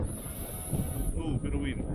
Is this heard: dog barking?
no